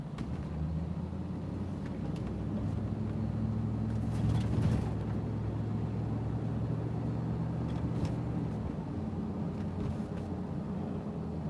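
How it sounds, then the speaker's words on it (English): A truck passes along a road in Goldsboro, North Carolina, a loud steady engine rumble with road roar that swells briefly midway before settling back to a constant drone, no talk. "this truck here doesn't understand the use of a turn lane"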